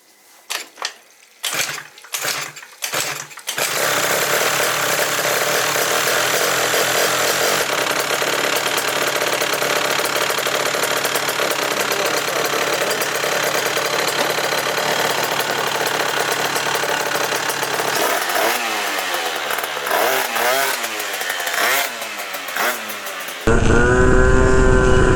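Derbi GP1 motorbike with a 94cc Malossi RC One two-stroke engine coughs through several short start attempts, then catches and runs at a loud, raspy, steady idle, with revs rising and falling near the end.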